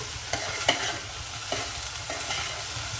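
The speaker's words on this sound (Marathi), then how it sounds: "भेंडीचा खूप छान असा वास येतोय कारण की आपण तिला अशी भाजून घेतोय छान म्हणजे भाजून म्हणजे फ्राय करून घेतोय" Okra (bhindi) stir-fried in a pan gives a steady close sizzle, with a few sharp scraping clicks of the spatula at an uneven rhythm and no talking.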